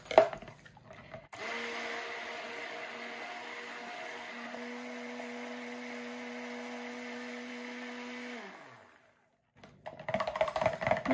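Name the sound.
stick blender pureeing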